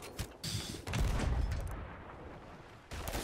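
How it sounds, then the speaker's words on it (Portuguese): Bursts of gunfire ring out in the pirate video game Sea of Thieves, with sharp shots followed by a longer rumbling volley that fades, then another short blast at the end. "Ele tá atirando, velho."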